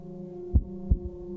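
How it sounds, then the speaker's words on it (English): A low throbbing heartbeat effect from the video game Wasteland 3 signals an injured, unhealed character: two to three soft, deep thumps over a steady droning hum, with no voices. "I haven't healed, so I have a whole heartbeat thing going on right now still"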